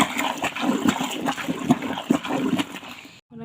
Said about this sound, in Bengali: আমি কাপড়গুলো একটা একটা করে বালতির মধ্যে দিয়ে দেবো, ভিজিয়ে নিব।